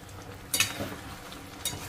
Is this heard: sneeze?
no